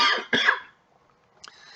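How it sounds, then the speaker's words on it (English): A person coughs twice close to the microphone with sharp bursts, then there is a short pause and a lighter throat-clearing sound. "I'm going to cough here."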